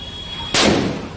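A single sharp firecracker blast during Diwali celebrations, a sudden loud broadband crack that decays into a short rumbling tail, with no voices.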